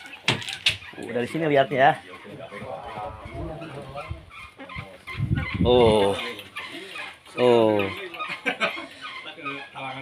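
Pelung chickens on a poultry farm cluck and call in bursts, close by, mixed with a person talking over them.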